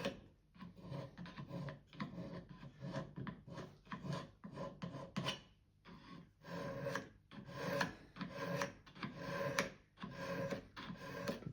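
A chisel with a burred edge scrapes debris from a wooden plane in repeated short rasping strokes, close and dry, in a steady back-and-forth rhythm with brief pauses between passes.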